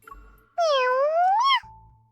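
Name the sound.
cat meowing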